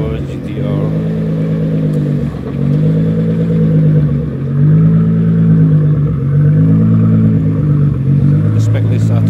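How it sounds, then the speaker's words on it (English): A 1000-horsepower GTR's engine revs nearby, a loud mechanical drone that swells and drops in repeated waves with occasional clatter. "It's a 1000 horsepower GTR."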